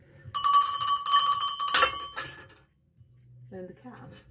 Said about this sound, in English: Ring the bell again.